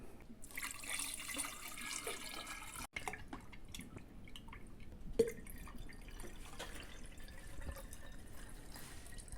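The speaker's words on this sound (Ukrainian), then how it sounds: "Заливаємо баночки розсолом." Brine pours and trickles quietly into glass jars for fermenting vegetables, with occasional drips and a sharp clink partway through; no voices.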